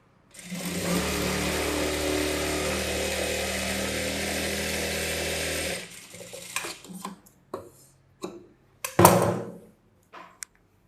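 A sewing machine stitching blouse fabric runs in a steady, continuous mechanical whir for about six seconds, then stops and gives way to a few short, irregular clicks and clatters of the machine and fabric handling.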